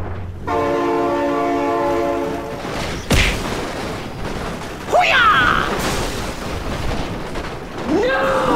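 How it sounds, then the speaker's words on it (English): A train passing with its horn blowing: a loud sustained multi-tone horn blast, then heavy booming impacts and sweeping tonal whooshes. "Oh my god, train!"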